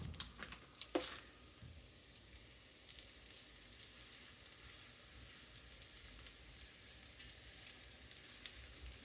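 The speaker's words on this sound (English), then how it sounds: "Meanwhile, these are frying 4 to 5 minutes per side" Steady sizzling of falafel frying in hot oil, a constant crackle with scattered pops, close by and uninterrupted.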